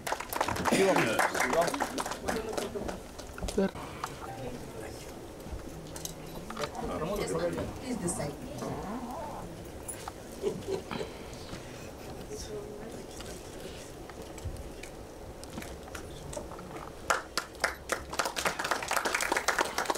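An audience at a song launch event welcomes a guest with clapping: bursts of crowd applause near the start and again toward the end, lighter scattered claps in between, with people talking over much of it.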